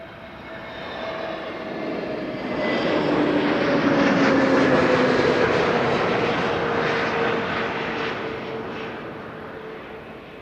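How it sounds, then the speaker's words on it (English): A Transavia Airbus A321neo jet arrives inbound from Olbia, its engine roar swelling from a steady hum to a loud, broad rush around the midpoint and holding strong as it passes, with a faint whine layered on top. "Another Transavia A321neo arriving from Olbia, flight 6914."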